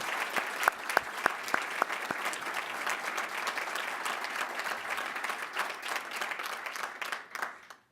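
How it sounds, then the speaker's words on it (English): Sustained audience applause fills a large event room, steady dense clapping throughout with a few sharp claps standing out near the start, tapering off at the end. "Let's give Bill Rudin a big round of applause."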